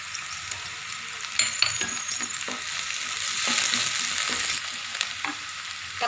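Ginger, garlic and curry leaves fry loudly in a pan for a restaurant-style vada curry, a bright continuous sizzle broken by repeated stirring scrapes and an occasional light clink, with no talking.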